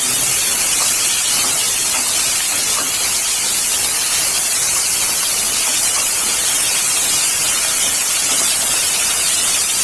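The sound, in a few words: fenugreek leaves cooking and being mixed in pan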